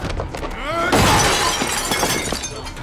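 A loud, close crash and splintering burst marks a table smashed by a kick in a movie fight scene, with a rising whoosh before it and debris clattering after.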